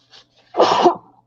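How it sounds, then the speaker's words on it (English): One loud, close sneeze erupts after a brief quiet intake of breath, a sharp noisy burst lasting about half a second, with no talking. "I had a sneeze"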